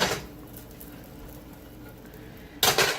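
Meatballs drop into a hot pan with olive oil, a clattering burst at the start and another near the end over a quiet background, close and short with no talking.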